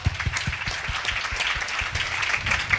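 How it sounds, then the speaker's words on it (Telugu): Loud applause from a church congregation fills the space, a dense, steady burst of many hands clapping together for nearly three seconds. "చప్పట్లు కొడదాం ఒకసారి గట్టిగా"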